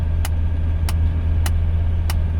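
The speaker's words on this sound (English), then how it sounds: "Oh yeah, hear that. Yeah, that's a wheel hub right there." A worn wheel hub on a 1985 Mercedes 300CD rumbles steadily from inside the moving car, with a low droning hum and four evenly spaced brief clicks or knocks repeating roughly every 0.6 seconds.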